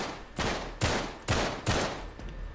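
Four sharp bursts of gunfire in the Uncharted 3 video game, spaced about half a second apart, each with a loud crack and a short decaying tail.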